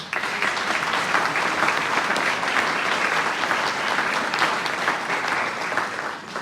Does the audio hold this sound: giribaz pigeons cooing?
no